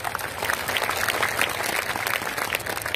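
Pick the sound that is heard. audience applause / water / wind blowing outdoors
audience applause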